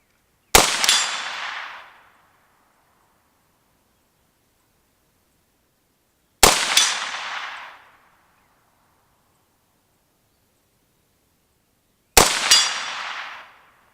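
Three Arsenal SLR-106F rifle shots ring out on a steel target, each a sharp loud crack with a brief metallic ring and decay, spaced about six seconds apart with silence between.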